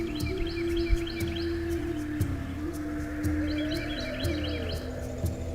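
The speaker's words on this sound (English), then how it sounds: "A lot of birds out here." Birds chirp and tweet repeatedly near a river during a kayak paddle, with short bright calls in bursts over a steady low hum and background ambience.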